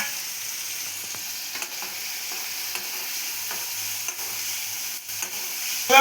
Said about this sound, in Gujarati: હવે આપણે મરચાં નાખી રહ્યા છીએ.